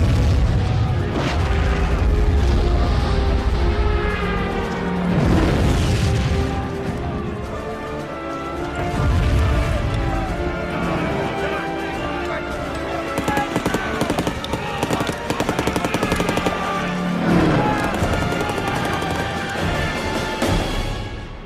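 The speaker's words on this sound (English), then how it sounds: "the one who is following picks up the rifle and shoots" A wartime battle scene carries rolling booms, explosions and crackling rifle gunfire over a dense, loud background of continuous chaos, with muffled shouting voices mixed in.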